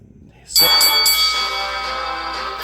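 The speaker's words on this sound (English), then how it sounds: "we just heard that bell" A bright bell chime rings out in the baseball video game Mario Super Baseball, striking suddenly and loudly after a quiet start, then sustaining and slowly fading with a rich metallic shimmer.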